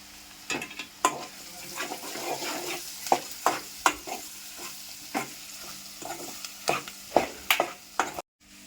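Egg curry being stirred in a pan, a soft continuous sizzle punctuated by irregular sharp scrapes and taps of a spoon against the pan, close and fairly quiet with no talk.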